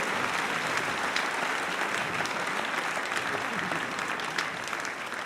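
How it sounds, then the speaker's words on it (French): A concert audience applauds steadily for the giant-puppet bearers brought on stage, a dense, continuous clapping that holds at an even level for the whole stretch without voices on top. "Allez, on les applaudit encore."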